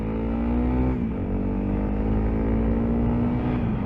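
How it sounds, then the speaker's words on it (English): A 2022 Honda CRF300L motorcycle accelerates on the road to overtake, its engine a loud, steady close-up drone with a brief dip in pitch as it shifts gear before pulling on evenly. "So here's one of those overtakes you have to time."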